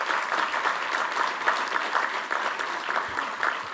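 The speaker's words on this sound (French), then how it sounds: "j'aimerais qu'on l'applaudisse parce qu'il a fait un long chemin" Audience at a Europe–Africa cultural and economic forum applauds a guest, a full, steady wash of clapping that holds evenly throughout with no voices over it.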